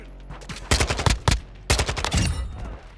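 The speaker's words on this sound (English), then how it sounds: "They're shooting at me" Gunfire in a Call of Duty: Modern Warfare 2 team deathmatch: two loud clusters of rapid shots with a short pause between them, cracking sharply over a quiet background.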